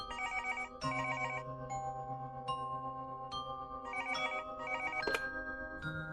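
A telephone rings with a repeating electronic ringtone pattern, steady and fairly loud, used as a sound effect in a spoken horror story about a call to a reception desk at night.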